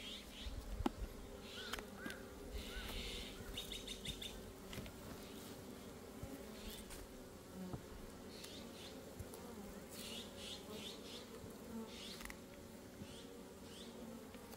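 A steady, low drone of many Asian honeybees buzzing around a hive fills the air, with individual bees swelling louder as they pass close, continuous throughout.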